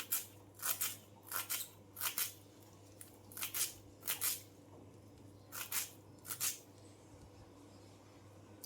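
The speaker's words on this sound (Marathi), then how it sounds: "कशी बारीक अशी कोथिंबीर कापून घेते" Fresh coriander being finely cut, a quick series of crisp snipping or chopping strokes in irregular bursts, close and fairly quiet, with no talking.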